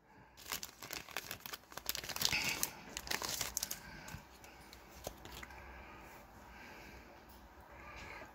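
A pack of NFL football trading cards ripped open: close crinkling and tearing of foil wrapper for a few seconds, then quieter handling as the cards come out.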